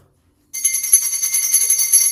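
Old candlestick telephone bell ringing in a steady, continuous shrill trill that starts abruptly after a moment of silence and carries on loud and close.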